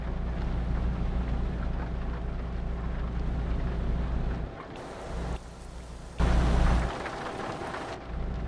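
Rain and thunder in Euro Truck Simulator 2, a steady wash of rain over a low engine drone, broken by abrupt cuts and a loud rumbling burst, no voices.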